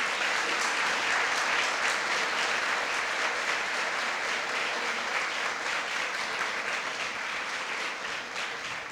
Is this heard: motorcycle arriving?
no